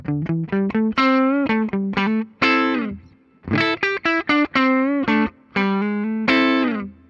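A distorted Epiphone Les Paul electric guitar on the neck pickup plays a warm, dark-toned, slightly muddy lead line of sustained notes and quick phrases, alone and up close.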